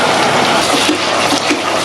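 A little hot water is poured into a cooking pan, making a loud, steady splashing rush that fills the whole moment, with no talking.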